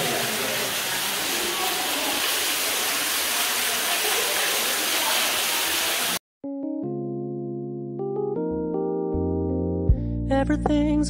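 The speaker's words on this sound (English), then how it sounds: "waterfalls." Broadband rushing hiss of a waterfall inside Tuckaleechee Caverns, a steady roar for about six seconds that cuts off abruptly, followed by sustained tonal music.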